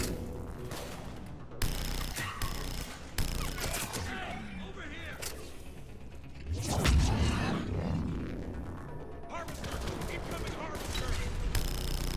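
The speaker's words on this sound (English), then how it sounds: "Okay, let's go shoot them. With guns." Gunfire in the Mass Effect 3 video game combat on Xbox Series S, bursts of shots, whooshes and impacts in irregular clusters with a heavier blast midway.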